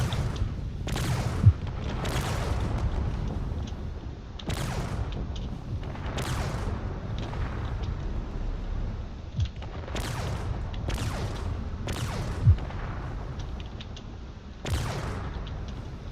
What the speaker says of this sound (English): A lot of explosions down there.